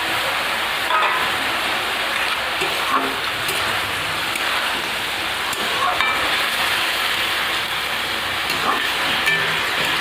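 Bori lentil dumplings frying with red amaranth greens in a pan, giving a continuous, even, moderately loud sizzling hiss with a few soft crackles.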